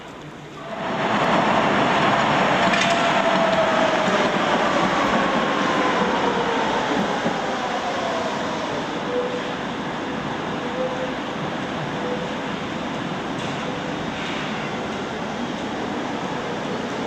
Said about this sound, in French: Prague est aussi la ville des tramways.